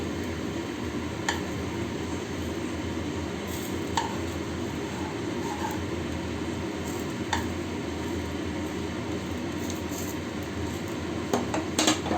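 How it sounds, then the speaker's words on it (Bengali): Food frying in ghee makes a steady low sizzle, broken by occasional clinks of a utensil against the pan and a brief cluster of clatters near the end. "একেবারে এটা ঘি দিয়ে আমি ভেজে নিচ্ছি"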